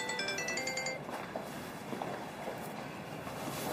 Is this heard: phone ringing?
yes